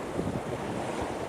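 Wind pushes choppy water across a river point below a ship channel dam, a steady broadband rush of surf-like wash and wind buffeting the microphone, continuous and fairly close with no talk.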